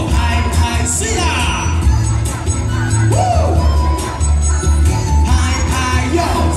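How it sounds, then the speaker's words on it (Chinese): A large outdoor audience at the Taichung International Stomp Dance Festival claps, cheers and whoops; a loud, dense, continuous crowd roar with scattered shouts and voices throughout. "拍拍手来，掌声鼓励鼓励"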